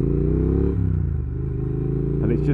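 A Triumph Thruxton R retro classic motorcycle engine revs loud and close, a deep throbbing rumble that shifts pitch as the throttle rises and falls.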